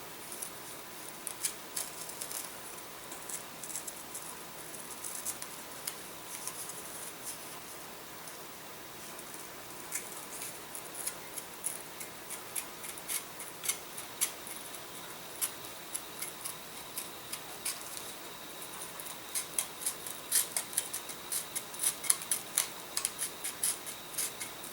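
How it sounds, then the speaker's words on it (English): A sharp, fresh razor blade carefully cuts out a model aircraft fuselage part, giving quiet, intermittent ticking and scraping clicks that come in irregular bursts over a faint background hiss. "take a sharp, fresh, whatever you want to call it, razor blade and carefully cut this out"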